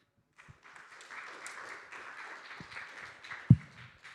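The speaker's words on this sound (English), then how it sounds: "please give a warm welcome and round of applause to Orest." A summit audience gives a speaker a round of welcoming applause, moderate and steady clapping from a crowd with a few louder nearby claps standing out, no talk over it.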